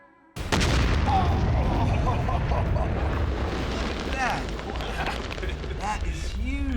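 A huge Green Hornet test explosion goes off near a bulldozer, one sudden loud blast that swells into a long, sustained roaring rumble as debris and dust settle, with voices faintly underneath.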